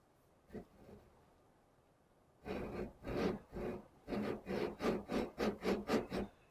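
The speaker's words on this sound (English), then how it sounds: "I'm just shaving a little bit off this so that it is slightly narrower" A small part for a model railway is shaved down by hand: one faint scrape, a pause, then about nine rhythmic rasping strokes, close and fairly quiet.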